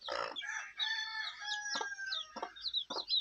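A free-range hen with chicks gives a few short, close clucking and squawking calls, with brief pauses between bursts and no other sounds around them.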